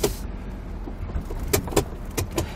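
A large, heavily loaded truck rolls over a bumps course, its cabin rattling and thumping with a few sharp knocks against a low road rumble.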